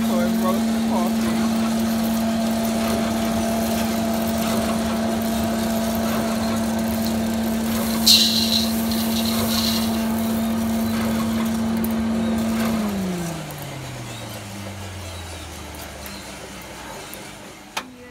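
A coffee roasting machine in Bali runs with a steady motor hum and drone, which winds down near the end.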